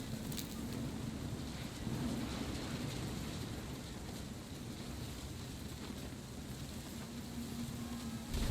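Rain and rolling thunder in the game What Remains of Edith Finch form a dense, steady wash of faint noise with low rumbling and gusty swells, constant from start to end.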